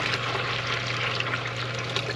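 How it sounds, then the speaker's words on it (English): Broth from a pressure cooker pouring steadily into a pot, a continuous close liquid rush with a constant low hum underneath and no talking. "pour all this in the pot"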